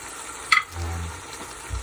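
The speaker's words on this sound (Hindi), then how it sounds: "तो अपने मसाले को भून लेते हैं अच्छी तरह" Spices with ginger garlic paste fry in a hot pan, a soft sizzle broken by a sharp scrape of a stirring spoon and low clatter, fairly close and with no voices.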